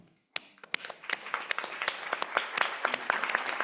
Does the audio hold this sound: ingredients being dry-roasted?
no